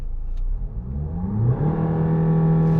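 Range Rover Evoque SD4 diesel engine revving up, its pitch climbing smoothly from a low idle to a higher sustained whine, close and fairly loud with no voices.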